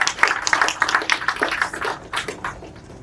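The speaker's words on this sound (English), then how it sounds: "I think we can give them a round of applause for that." A burst of audience applause at a jetty ribbon cutting ceremony: dense, close clapping that swells and then thins out over a few seconds.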